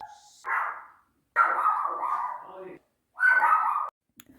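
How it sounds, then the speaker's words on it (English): A dog barks and yips indoors, three separate bursts spaced by pauses, the middle one longest and slightly whining, moderately close and fairly loud, alone without talk. "Sorry, that was my dog."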